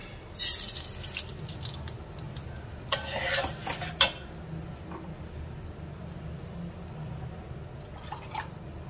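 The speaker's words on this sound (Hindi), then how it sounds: "थोड़ा सा हम इलायची को इसमें भूनेंगे" Soft sizzling of cardamom roasting in a pan with a few scraping stirs and clinks, steady low frying hiss throughout, no talking.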